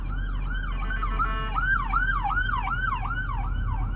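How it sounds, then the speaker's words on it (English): An ambulance siren wails in a rapid, repeating up-and-down pattern on the Las Vegas Strip at night, moderately distant over a low rumble of traffic and engine noise. "Ambulance."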